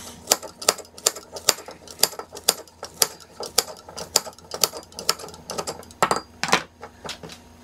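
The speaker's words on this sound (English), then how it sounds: "So I'm just gonna cut them up into my jar." Scissors snip wild lettuce leaves into a jar for a tincture, giving a rapid, uneven run of close, crisp cutting clicks, several per second, with no voices.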